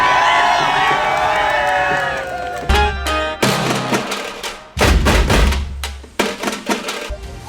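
Loud outdoor celebration after a BJP win in the Shirdi and Rahata municipal council results, with a dense crowd roaring and cheering through repeated heavy, booming bursts.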